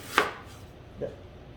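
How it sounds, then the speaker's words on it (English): Two knife chops through onions and tomatoes on a cutting board, a sharp close one followed by a softer one a moment later, in a quiet room. "I'm going to just chop up all my onion and my tomatoes into smaller pieces"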